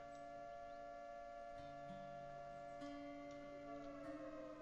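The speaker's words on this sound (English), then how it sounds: "We got the raid sirens going." Raid sirens sounding in the survival game SurrounDead, a steady wailing tone with held pitches that shift in steps, running continuously at moderate level with no talk.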